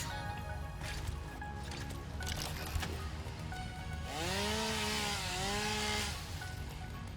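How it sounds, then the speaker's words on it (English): A chainsaw cuts in the video game Satisfactory. Its droning engine whine rises and falls over several seconds, with bending tones toward the end, and no voices are heard. "And we need to use our chainsaw."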